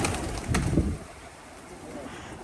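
Pigeons coo in Portugal, a short burst of soft, low calls up close within the first second, then fading into quiet background noise.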